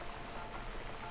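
Steady rain pours in The Cat Lady video game, a continuous even hiss with no other sounds on top.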